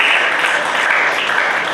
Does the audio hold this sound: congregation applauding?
yes